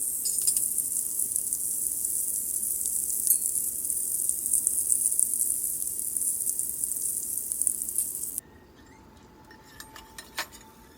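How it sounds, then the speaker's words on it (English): Steady loud sizzling of eggplant frying in hot mustard oil for several seconds, then it cuts off to a quieter background with a few light clinks. "Sizzle in mustard oil till they are golden and irresistible."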